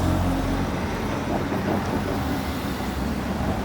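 A heavily modified Mazda MX-5 moves through city traffic, a steady broad road roar and engine drone holding loud and even throughout, with no clear pass-by peak.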